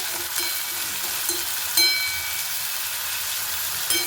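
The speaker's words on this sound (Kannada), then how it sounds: "ಮೆಂತ್ಯ ಸೊಪ್ಪು ಹಾಕ್ಕೊಂಡು ಸ್ವಲ್ಪ ಎಣ್ಣೆಯಲ್ಲಿ ಫ್ರೈ ಮಾಡಿಬಿಟ್ಟು" Fenugreek leaves fry with onion in hot oil, making a steady, close sizzle with occasional stirring scrapes and no talking.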